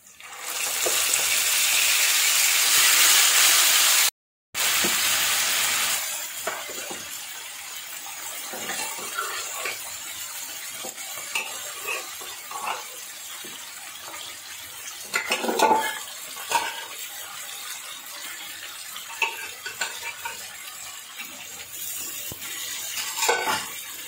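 Taro leaves hit hot oil with browned onion and garlic, giving a loud, bright hiss for a few seconds, then a quieter stretch of sizzling with scattered clatters of stirring in the pan.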